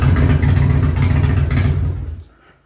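Harley-Davidson motorcycle (1989–2007 model) with a starter fault, heard as a loud, rough low engine rumble with a cranking wind-up that cuts off sharply near the end.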